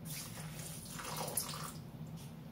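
Water is poured into a Thermomix TM7 mixing bowl while making tabbouleh, a steady close splashing stream that runs throughout without any talk.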